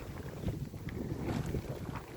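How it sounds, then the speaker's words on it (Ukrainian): Strong wind buffeting the microphone in rough, rumbling gusts, loud and continuous throughout with no voices. "Зараз починається дуже сильний вітер."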